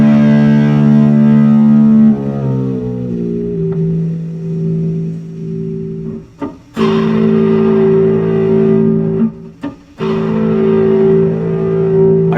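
Electric guitar run through a Line 6 POD Go with an exaggerated pitch-shift detune effect, sustained notes sliding downward then ringing out with a few sharp picked attacks, loud and close with no talking.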